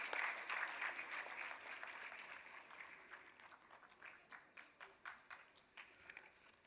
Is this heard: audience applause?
yes